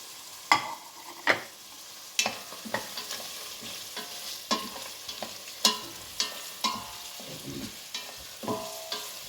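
Onions and curry leaves frying in a pan for a minced mutton curry, stirred with repeated close scraping strokes in an uneven rhythm over a faint sizzle, with no voices.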